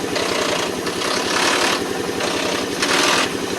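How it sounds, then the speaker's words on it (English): A 2010 Kawasaki Teryx 750 side-by-side engine idles steadily with a loud, even, rapid chugging pulse, the mechanical rattle swelling slightly at intervals, close up and with no talking. "I can idle it back down, that way it doesn't go"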